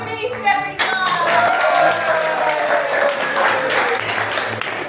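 An indoor audience at Disney World applauds the Beast character, with a brief voice at the start giving way to sustained, fairly loud clapping from many hands that continues to the end.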